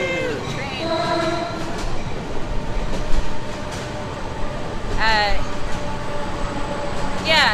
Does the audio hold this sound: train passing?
yes